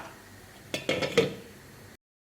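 A lid clinks onto a pot of simmering sundakkai kulambu, a few short metallic taps and rattles close by, then the sound cuts off.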